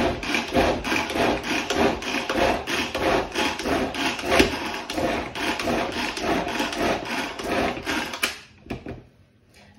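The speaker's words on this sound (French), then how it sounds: "je tire sur la ficelle plusieurs fois pour mixer mes poivrons" A Tupperware pull-string chopper rattles and whirs in rapid repeated bursts as its cord is yanked again and again to chop bell peppers, loud and close, then stops abruptly near the end.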